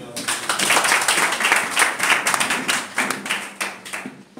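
Congregation in a church service clapping and applauding together, a dense, continuous wash of hand claps with steady rhythmic pulses, loud and close, with voices mixed into the crowd noise.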